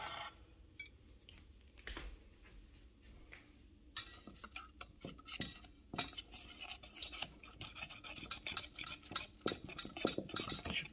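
A wide whisk beating egg in a bowl for French crepes: sparse clinks at first, then rapid, irregular metallic clicking strokes that grow busier and louder toward the end, close by with no talking.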